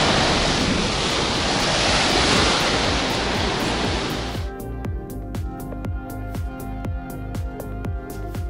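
Baltic Sea waves wash onto a beach in a broad, loud hiss of surf with wind buffeting the microphone, then the roar drops away abruptly partway through.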